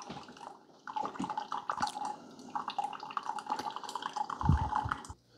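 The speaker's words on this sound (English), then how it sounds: "my app is telling me that it's dispensing hot water at the 6 ounce mark." A Keurig K-Supreme Plus coffee maker dispenses hot water into a cup with a steady trickling pour and gurgling drips, close and continuous, ending in a brief burble and a sputter near the end.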